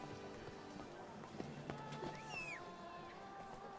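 The horse Roach galloping in The Witcher 3: Blood and Wine, with quiet rhythmic hoofbeats under soft game music and a brief whistling sweep, all fairly faint.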